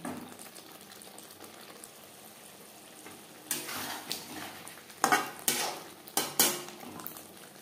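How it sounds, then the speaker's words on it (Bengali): Potatoes being stirred in a pan for an aar fish curry over a medium-high gas flame, with quiet background hiss, then several sharp scraping clinks of a spoon against the pan in the second half. "গ্যাসের ফ্লেমটাকে হাই টু মিডিয়ামে রেখে আরও 3-4 মিনিট নাড়াচাড়া করে নেব।"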